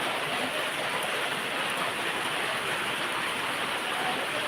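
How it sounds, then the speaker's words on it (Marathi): Steady, heavy rain pours down continuously in Ratnagiri, a dense even hiss with no breaks and no voices. "ये पाऊस आला पाऊस"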